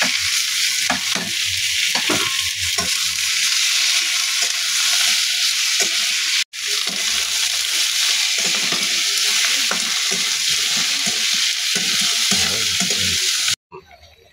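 Chopped meat sizzles loudly in a hot pan with ginger for Bicol Express, stirred steadily throughout, with a brief break midway before the frying cuts off near the end.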